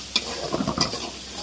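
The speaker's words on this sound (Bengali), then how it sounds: "মশলাটা নাড়া নিব, একটু ভাজা ভাজা হোক" Spice paste with cumin and minced garlic frying in oil left over from frying fish, stirred in the pan; a quiet, steady sizzle with a few distinct scraping strokes of the spoon, alone without talk.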